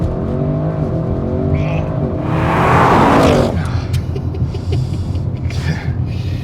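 2025 Audi RS6 Performance launching hard with launch control, a loud close engine surge building to a roaring peak before easing off, with voices around it inside the car.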